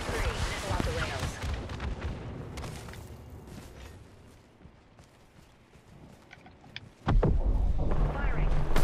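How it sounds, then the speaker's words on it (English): A missile launches in a video game, a loud burst of thrust and a boom near the end over rumbling combat noise, with a voice speaking earlier. "Box 3, missile off the rails."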